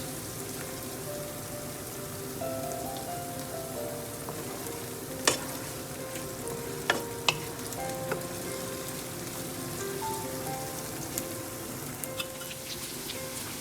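Sauce and chicken sizzle and crackle steadily as they stir-fry in a hot pan, with a few sharp clinks of a utensil stirring, and no talking.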